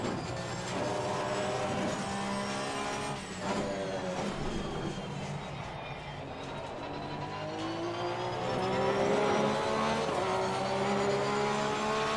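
A Porsche race car laps Kyalami in the racing game Assetto Corsa Competizione, with a steady, loud engine drone that rises and falls through gear changes and never stops.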